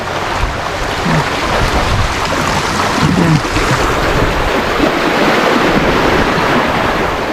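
Rushing river water at Rawis, a steady broadband wash of flowing current and small waves with some wind buffeting the microphone, continuous and close throughout.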